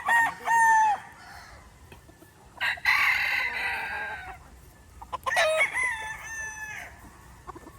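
A young gamecock (stag) crows several times on a farm, loud and close, with drawn-out harmonic calls broken by short pauses and a few clucks in between.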